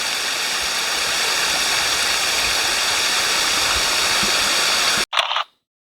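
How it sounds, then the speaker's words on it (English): Steady roar of a waterfall in Bali, loud and continuous, broadband rushing water close by, cutting off abruptly near the end. "so that was the waterfall"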